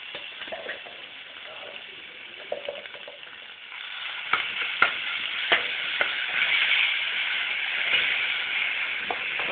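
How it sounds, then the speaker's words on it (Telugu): Cooked rice with amchur being stirred and mixed in a hot pan, a soft, steady sizzle with intermittent spoon scrapes and taps. "అన్నం వేసి కలిపేసాం."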